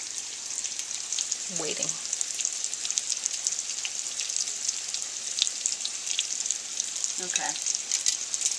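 Eggplant frying in a pan gives a steady, faint hiss and crackle of sizzling throughout, while people talk briefly now and then over it.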